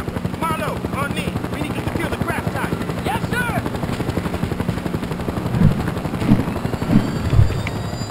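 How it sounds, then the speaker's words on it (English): Military helicopter from Battlefield Bad Company 2 with a loud, steady rotor thump chopping continuously, overlaid by muffled gunfire bursts and a few voice calls. "Haggard, Sweetwater, you stay in the helicopter"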